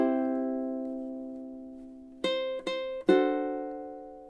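A ukulele plays a Margaritaville passage: one ringing plucked chord sustains and decays for two seconds, then three quick strums follow near the end, each bright and close with no talking.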